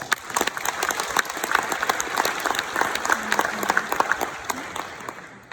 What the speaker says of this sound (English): So please give our members an even huger round of applause.